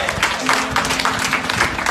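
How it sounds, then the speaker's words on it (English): A church congregation breaks into brief, dense clapping during a sermon, a steady wash of hand claps filling the room with no clear voices on top. "Somebody give the Lord a clap already."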